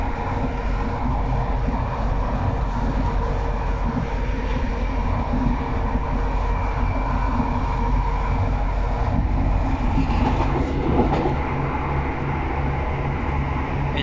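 An East Midlands Railway Class 170 train rumbles steadily along the rails between Lincoln and Barnetby, a continuous low roar with faint rhythmic clatter and no voices.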